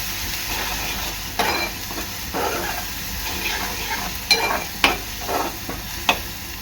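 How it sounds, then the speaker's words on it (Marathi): Chopped onions with salt fry in a pan until browned for a Koli-style dried shrimp and brinjal dish, giving a crackling sizzle broken by several sharp stirring scrapes and knocks, close and moderately loud with no talking. "कांदा चांगला लाल होईपर्यंत शिजवून घेणार आहे"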